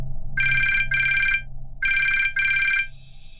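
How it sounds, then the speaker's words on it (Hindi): A telephone rings with an incoming call at a call center on a Friday night: two clear pairs of bright electronic double rings, close and loud, with no voices over them. "तभी उसे एक कॉल आती है।"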